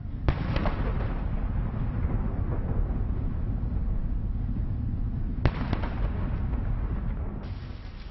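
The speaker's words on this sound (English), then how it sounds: "accompanied by a 21-gun salute" Cannon blasts of a 21-gun salute fire at the US Capitol as a presidential casket is carried up the steps, sharp reports ringing out at intervals over a steady loud outdoor rumble.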